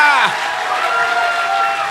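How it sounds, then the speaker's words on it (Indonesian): A church congregation at a Sunday service in Batam applauds loudly, a dense continuous wash of clapping and crowd noise. The start carries a trailing voice or musical tone. "Ya, tepuk tangan yang keras."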